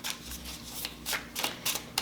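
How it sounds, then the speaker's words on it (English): An oracle card deck, the Sacred Creators Oracle, being shuffled by hand: a quick series of crisp riffling bursts and soft card slaps, close and fairly quiet, with no voices. "let's conclude your reading with a shuffle from the Sacred Creators Oracle"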